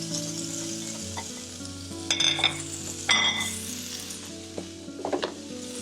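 Chopped onion frying in a pan for kanda poha, with a steady close sizzle and a few scraping stirs and light clinks of a utensil against the pan.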